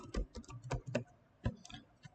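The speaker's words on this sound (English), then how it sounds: "Now I'm going to type hello there." Typing on a computer keyboard, a quiet, close run of separate key clicks in an uneven rhythm, about ten presses over two seconds with no talking.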